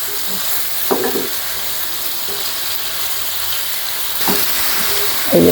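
Cauliflower sautéing with spices for a Bengali cauliflower korma, a loud continuous sizzle with a spatula scraping and clanking against the pan a few times, alone without talk.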